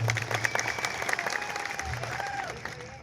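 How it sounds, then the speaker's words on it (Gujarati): A crowd applauds at an Aam Aadmi Party rally in Kawant, a dense wash of clapping heard at moderate distance with crowd voices and a whistle-like tone mixed in, fading slightly toward the end. "બધા જ માટે એકવાર આપણે જોરદાર તાળીઓ પાડી લઈશું"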